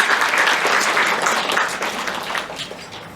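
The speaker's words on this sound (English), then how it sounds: "Let's welcome them with a huge round of applause." Loud, dense applause from an audience welcoming guests at an academic event on the heritage of traditional Indian textiles, steady and close throughout, easing slightly toward the end with no talk over it.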